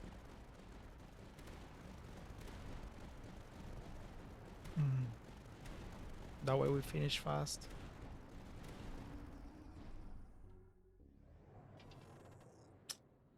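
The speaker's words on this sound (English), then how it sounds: "There's the howitzer." Howitzer and sanction cannon artillery fire in the video game Tower Dominion, a steady rumble of rapid distant booms and impacts running throughout, with a few louder bursts in the middle and someone talking over it.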